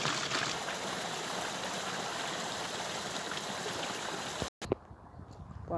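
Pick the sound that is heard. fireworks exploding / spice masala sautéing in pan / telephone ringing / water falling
water falling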